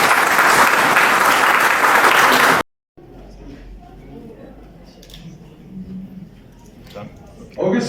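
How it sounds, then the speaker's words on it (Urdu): Loud, dense applause from a seminar audience at Chitral University greets the end of a presentation, lasting about two and a half seconds before cutting to a quiet room with faint shuffling and a brief burst of clapping at the very end. "پہلے تو بھرپور تالیاں ہونی چاہیے پریزنٹیشن کی"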